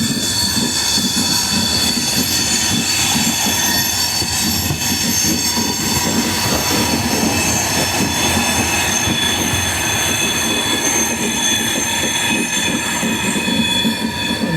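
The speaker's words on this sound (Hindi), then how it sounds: "पता नहीं कौन सी ट्रेन है। अब ये भी आगे निकल जाएगी हमारे से" A second passenger train overtaking on a double-line section, heard from aboard a Mumbai–Hyderabad express: a steady, loud rumble of wheels and carriages with squealing and faint clatter, continuous for the whole stretch and no voices.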